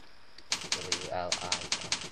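Keys on a computer keyboard are tapped about eight times in a quick, even rhythm. The clicks are crisp and close, with a brief pause after the first few.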